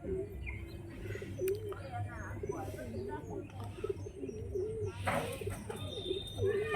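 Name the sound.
pigeons cooing as they enter the coop at dusk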